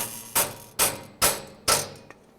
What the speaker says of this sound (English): be hammering on dolly just a few times